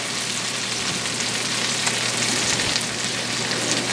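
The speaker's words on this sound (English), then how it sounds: "Let that sit there for about a minute and simmer." Garlic sizzling in a hot pan, a loud, dense, continuous frying crackle close up with no talking.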